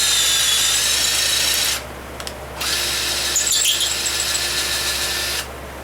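A power ratchet whirs in close, loud bursts, running steadily, cutting out briefly, then spinning up again before a final stop.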